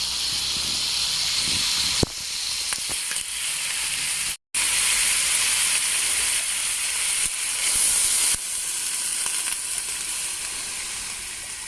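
Close, steady sizzling of native chicken frying in a pan, slightly charred, a constant hissing crackle with a brief cut-out and a few louder pops.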